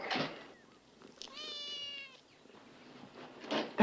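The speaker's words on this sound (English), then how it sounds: "That's a cat." A cat gives a single drawn-out meow, clear and fairly close, in a quiet Western film scene, with brief voices before and after it.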